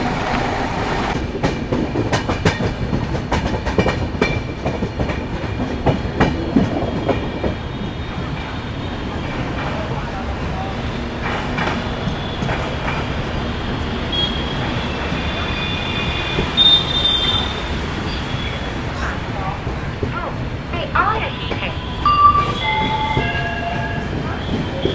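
The Trivandrum–Bangalore Humsafar Express rolls into Krishnarajapuram station with a continuous rumble of wheels on rails, clattering joints and some high metallic squeals. The rumble fades to a quieter hum as the train slows.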